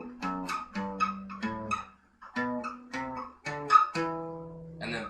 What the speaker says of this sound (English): minor is this specific combination. It's whole step, half step, whole step, whole step, half step, whole step, whole step